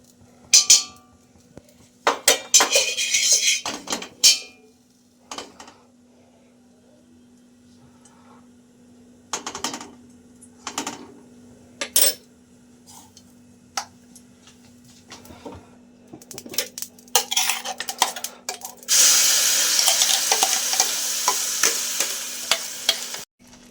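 Grated carrot fries in ghee in a kadai for dudh puli pitha, with intermittent stirring scrapes and light clinks of a utensil against the pan, ending in a stretch of louder steady sizzling.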